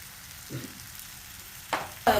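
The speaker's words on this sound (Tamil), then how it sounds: "நெல்லிக்காய் அளவு புளி கரைச்சி வச்சுருக்கேன் அதை இப்போ நம்ம இதில் ஊற்றப்போம் வடிகட்டி ஊற்றணும்" Tamarind water hits a hot pan with a soft splash, then two quick, bright sizzling bursts close by.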